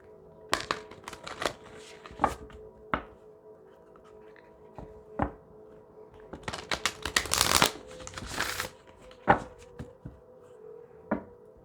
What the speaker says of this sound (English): Want me to shuffle one more time?